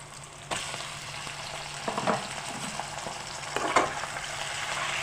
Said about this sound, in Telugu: నేను చికెన్ యాడ్ చేస్తున్నాను.